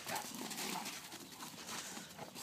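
Dogs at an animal shelter heard in noisy, broadband sound with a busy, reverberant kennel backdrop; no clear distinct barks stand out, just a continuous clatter of activity with no talking.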